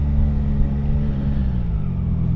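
A Ducati motorcycle engine runs loud and close, a deep, throbbing rumble holding steady throughout.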